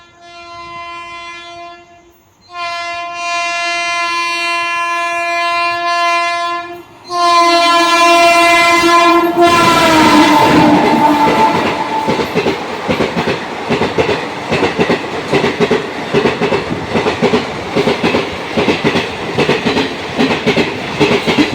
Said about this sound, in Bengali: এখন আসছে রাধিকাপুর কলকাতা এক্সপ্রেস।